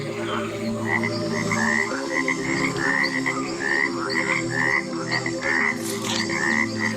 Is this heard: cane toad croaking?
yes